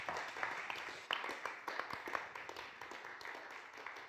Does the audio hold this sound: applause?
yes